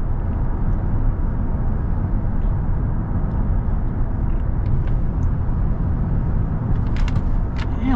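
A used Toyota Tacoma pickup with the 4.0L engine and aftermarket tires cruises along, giving a steady low rumble of road and tire noise inside the cab, with a few faint clicks near the end.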